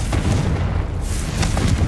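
A fiery blasting-spell explosion in the wizarding video game Hogwarts Legacy, heard as a dense, continuous low rumble and boom that fills the whole moment at close, steady loudness.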